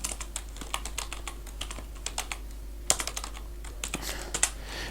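Quick, light keystrokes clatter on a computer keyboard as HTML code is typed, close and irregular with a few sharper clicks, alone without speech.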